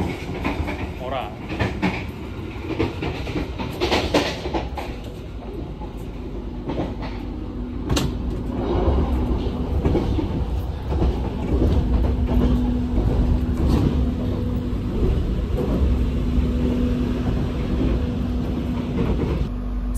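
Riding aboard the Madiun Jaya economy express on the Jakarta–Madiun line, a continuous low rumble of wheels on rails carries faint clicks and clacks that grow heavier midway, with people talking over it.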